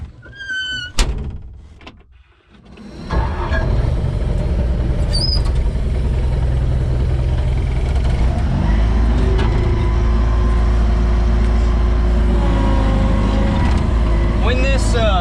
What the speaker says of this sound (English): So we're gonna jump in the skid steer and get going on feeding this little burn pile some more.